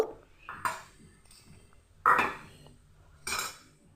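Rice fried with cashews and raisins for basanti pulao is stirred in a metal pan, three or four distinct scraping clinks of the spoon spaced a second or so apart, close and moderately loud.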